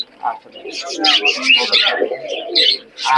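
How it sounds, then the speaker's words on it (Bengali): Sheyal Juti pigeons at a crowded pigeon market give close, lively cooing and chirpy calls, mixed with background voices. "এই যে দুইটা শেয়াল জুটির কবুতর রয়েছে, এই যে দুইটা।"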